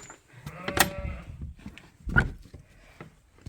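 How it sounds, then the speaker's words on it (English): Sheep bleat inside a barn converted from a dairy operation, two distinct nearby bleats amid soft rustling and shuffling, with quieter room noise between calls. "sheep"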